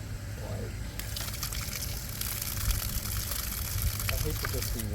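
Water rushes and gushes out of pressurized backyard pool equipment as the pressure is relieved, a steady close spray that carries through while someone talks over it.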